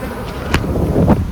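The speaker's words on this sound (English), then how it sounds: "There's bees coming into the front of this hive." Honey bees flying at the entrance of a hive, a close buzzing drone with a couple of louder passes as individual bees fly by the microphone.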